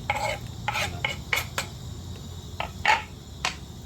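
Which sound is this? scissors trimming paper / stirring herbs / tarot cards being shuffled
stirring herbs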